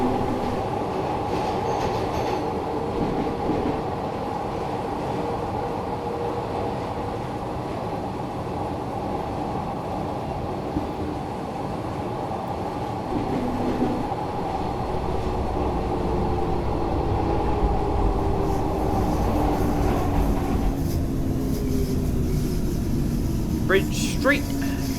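A Glasgow Subway 1980 stock train in the Thomson Interactive simulator game rumbles steadily along the track with squealing wheels, and its motor whine climbs near the end. A voice is heard over the train.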